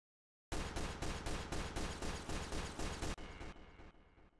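Rapid gunfire rings out from a Source Filmmaker animation playback, a fast burst of about a dozen evenly spaced loud shots followed by a fading, echoing tail.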